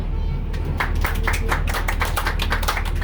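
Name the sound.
spontaneous applause from tour passengers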